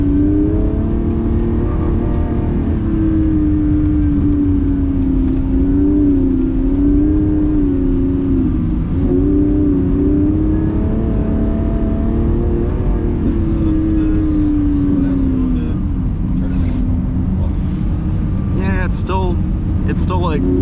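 A 2026 Lamborghini engine drones steadily while drifting on an ice track, its pitch rising and falling with throttle stabs, loud and continuous for about twenty seconds as a voice talks over it.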